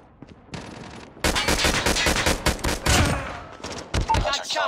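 Rapid bursts of automatic gunfire from a Call of Duty Mobile match pound out loud and near, dense volleys running almost continuously after a brief quieter opening, with a voice speaking briefly alongside.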